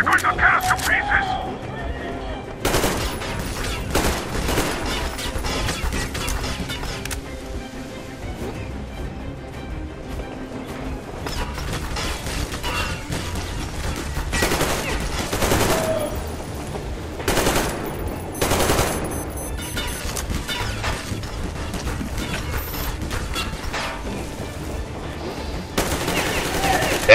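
Gunfire in Metro Exodus, dense bursts of automatic and single shots cracking repeatedly through a chaotic firefight, with several loud spikes, under near-constant shouted talk and game music.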